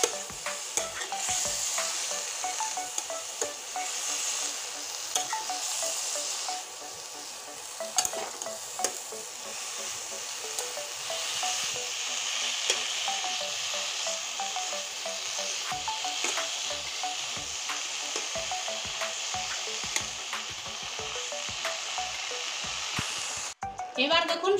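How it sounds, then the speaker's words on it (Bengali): Leafy greens sizzle steadily in a hot pan while a spatula stirs and scrapes them, with continuous close frying hiss and clinks throughout. "শাকটা দিয়ে আমি সুন্দর করে এখন নেড়ে নেব।"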